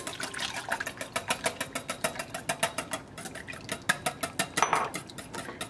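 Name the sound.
whisking egg with melted butter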